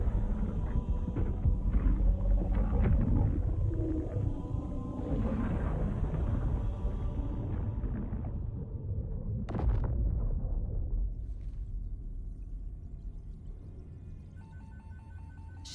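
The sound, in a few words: explosion sound effects from Halo Campaign Evolved video game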